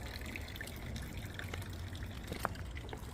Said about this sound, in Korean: 사시사철 산에서 이렇게 맑은 물이 떨어집니다.